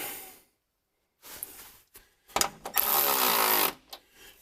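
Power tool tightening a running board bolt on a Chevy 2500HD pickup, heard as short bursts followed by a sustained loud whirring run of about a second, with quiet gaps between.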